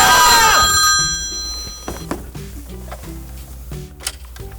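A telephone rings loudly with a bright, clear bell tone at the start, then fades into quieter background clatter and faint movement sounds.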